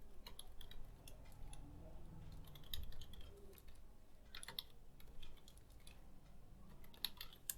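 Faint, close typing on a computer keyboard while entering data into an Excel spreadsheet, with irregular clusters of soft key clicks over a low background hum.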